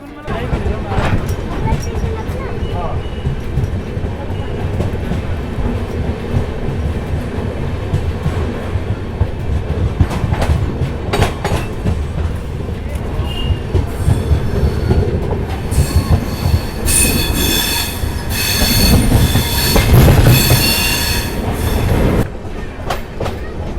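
A Jan Shatabdi Express train running from Delhi to Kota, heard from inside a crowded general coach: steady wheel clacking and rumble with loud metallic squeals, while passengers talk throughout.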